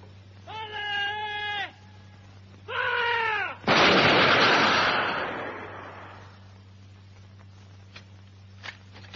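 A rifle volley fired in a Zulu war audio drama, heard as a single loud broadband burst that decays over a couple of seconds, following two bleating, bellowing calls and set against a steady low hum.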